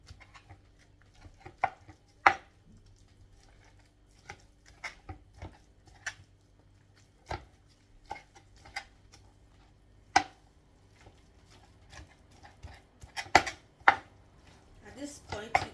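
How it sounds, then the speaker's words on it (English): Knife cutting chicken for croquettes on a board, irregular sharp chops and taps at close range, sparse and uneven, with quiet gaps between strikes. "make sure you cut your chicken very well"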